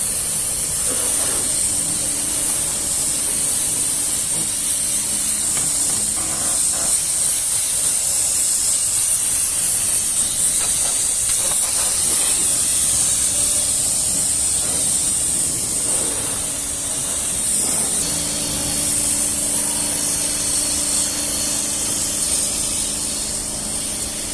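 Bosch UniversalAquatak 36V cordless pressure washer spraying water, a steady loud hissing jet running continuously with a faint motor whine beneath and small shifts as the spray moves.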